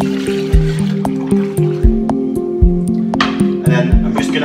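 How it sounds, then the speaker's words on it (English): Vegetable stock for a Greek lentil soup, strained through a colander and poured back into a pan, a splashing pour that sits under a prominent rhythmic musical backing. "So you're going to pour the good vegetable stock back into the pan."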